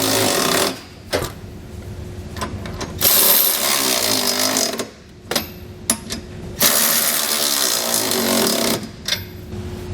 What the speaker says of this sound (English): on our driver's side, we're going to be using a 19mm socket.